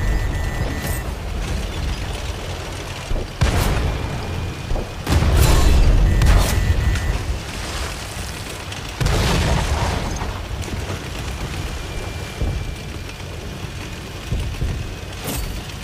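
Booming explosions and heavy mechanical rumble from a tank battle video game as an enemy tank's fuel tank is hit, with several deep blasts spread across the clip over a constant engine drone.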